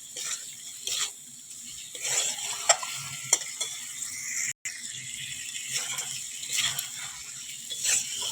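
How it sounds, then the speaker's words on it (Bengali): Fried potatoes and eggs being stirred into cooked masala in a pan, with repeated scraping strokes and clinks of a spatula over a low, steady sizzle; no talking. "আলু আর ডিমটা ভেজে রেখেছিলাম ওটাও দিয়ে দিলাম। ভালো করে কষিয়ে নেব বন্ধুরা।"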